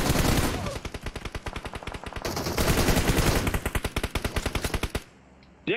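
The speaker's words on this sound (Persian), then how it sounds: "این هم تیر خلاص کردن" Finishing gunshots in an online shooter video game ring out as a rapid, steady string of loud automatic shots, dozens in quick rhythm, ending abruptly into near quiet.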